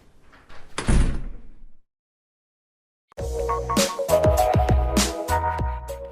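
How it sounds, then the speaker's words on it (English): A garage door is pulled shut: an early clatter and thud, then after a silent gap a long rumbling roll with repeated metallic clanks and bangs as the panels come down, fairly close and without talk. "Joe, can you shut the garage door, please?"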